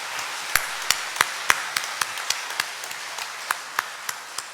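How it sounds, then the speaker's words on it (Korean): Slow, scattered claps ring out in a church sanctuary during Sunday worship, about a dozen sharp separate hits spaced unevenly, with no voices over them. "크게 박수로 격려해 주시기 바랍니다."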